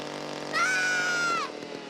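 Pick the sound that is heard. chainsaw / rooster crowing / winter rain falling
chainsaw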